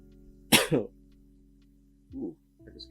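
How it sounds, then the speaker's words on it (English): A single sharp, close cough bursts out in a quiet room, followed by a couple of softer throat-clearing sounds, with a faint steady hum underneath. "I just coughed"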